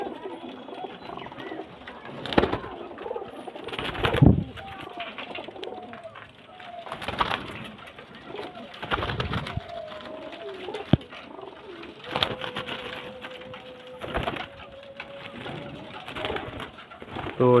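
Teddy pigeons coo repeatedly at close range, low throaty calls rising and falling in bursts with short pauses, alongside soft rustling and wing or cage noises.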